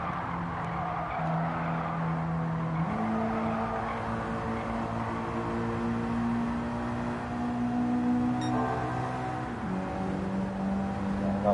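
Race car engine in a driving video game, revving steadily through gear shifts with tyre squeal as the car slides out to the left over curbs, loud and continuous with no talk.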